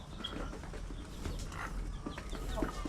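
Darag roosters and chickens cluck and call at a farm, with short bird calls scattered over a steady outdoor background noise, moderately distant and without talk.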